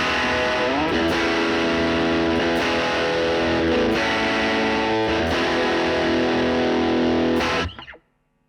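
An electric guitar through a distortion pedal and two amps on a Fender Tone Master Pro plays thick, sustained, heavily distorted chords with several sharp changes, loud and saturated, then cuts off abruptly near the end.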